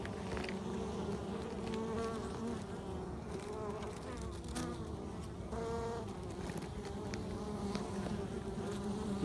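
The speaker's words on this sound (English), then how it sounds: "And the bees come out and they'll transfer" Honey bees buzzing at the hive entrance while foragers and workers come and go, a dense steady drone close to the microphone with individual bees whining past throughout.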